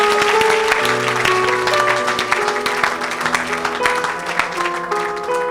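A church congregation applauding during a service: steady, dense clapping from many hands that carries on throughout over sustained musical tones.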